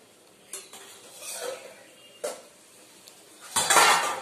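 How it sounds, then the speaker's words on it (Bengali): A lid is lifted off a pot of jackfruit curry with clanking metal cookware and stirring, giving a few sharp clinks and a louder clattering burst at the end, with no talking. "চলুন গাইস এবার অনেকক্ষণ হয়েছে ঢাকাটা তুলে দেখি।"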